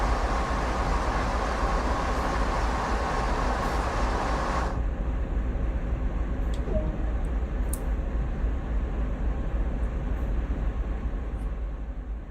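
A train rumbles steadily in Train Sim World, a loud continuous low drone with a high-pitched hiss that drops away partway through, leaving the engine running on with faint clicks and squeaks.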